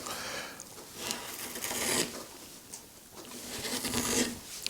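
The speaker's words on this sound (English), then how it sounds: "The easiest way to do it is with a deep gouge" A deep wood-carving gouge scoops a hollow into wood, making soft, close rasping scrapes in short strokes with brief pauses between them, quiet and alone.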